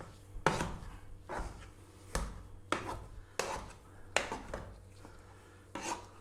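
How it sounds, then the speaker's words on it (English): Potatoes with butter being mashed for shepherd's pie, a series of distinct thudding pushes with wet squashing at irregular intervals, close and fairly quiet with no talk. "let's mash this through for another few minutes"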